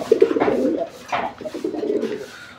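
Caged pigeons cooing at a Bangladeshi pigeon market, a series of close, throaty coos rising and falling over about two and a half seconds with no talking.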